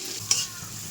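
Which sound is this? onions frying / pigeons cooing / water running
onions frying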